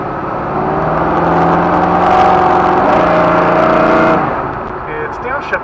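Car with a new transmission on a test drive, engine droning and rising then dropping as it downshifts, with a steady cabin whir and people talking over it.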